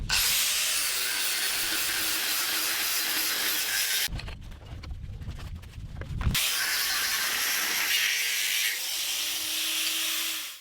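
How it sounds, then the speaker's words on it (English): A cut-off disc slicing through an aluminium deck hatch makes a loud, continuous high-pitched grinding whine that briefly drops to a lower rumbling pitch midway, then resumes steadily until it winds down at the end. "It still works using something like this, like a cut-off disc, which is what I'm using today."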